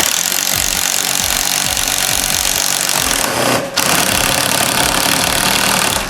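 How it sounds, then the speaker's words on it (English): A cordless drill turns an auger bit into wood, producing a loud, continuous motor whine with a rapid rhythmic knocking chatter, a brief dip and stutter partway through, then steady drilling again, with no talk. "we'll use for that auger bit like that, and then we'll start drilling"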